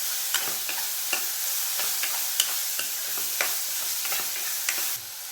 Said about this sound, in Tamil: நல்லா பச்சை வாசனை போக வதக்கணும்.